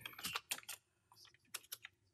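Light keystrokes on a computer keyboard while filling in a birth registration form, coming in quick clusters of taps with short pauses between them, close and fairly quiet.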